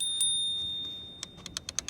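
Bell on a Navee S65 electric scooter, struck near and sharp: one ring, then a quick run of five or six bright dings toward the end.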